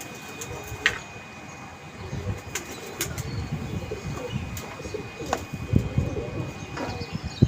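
Pigeons flying overhead, with soft bursts of wing flapping and occasional cooing in an outdoor setting, over a low rumbling background.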